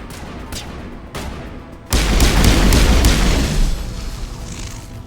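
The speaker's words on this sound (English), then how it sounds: "I keep accidentally throwing grenades." Grenades go off in the sci-fi shooter Mass Effect Legendary Edition with a loud, close booming blast and rumbling debris after sharper gunfire pops, then the roar fades.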